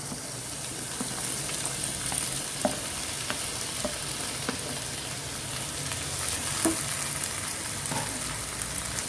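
Tomatoes frying in a pan for misal give off a continuous close sizzle and crackle, with scattered small pops and a spatula tap or two over the steady hiss.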